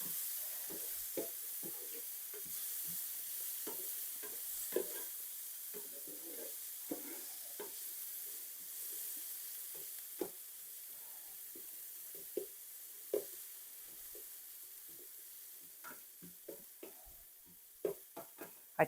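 Chopped garlic, two cloves, sizzling in a very hot skillet, a steady frying hiss with scattered faint pops and occasional utensil scrapes, close and moderately quiet, no talking.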